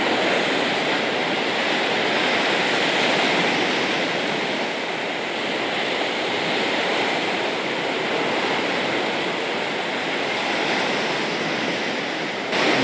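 Large ocean waves surge against the sea rocks at Sanno Rocks on the Iwate coast, giving a loud, continuous roar of surf and rushing water that stays close throughout with no pauses.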